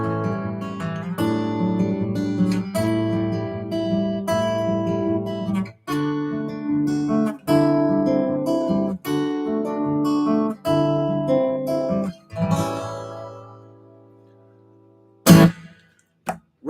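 A fingerpicked guitar pattern plays through steadily for about twelve seconds of rolling, ringing notes, close and clear, then fades out, followed near the end by a sharp burst of noise.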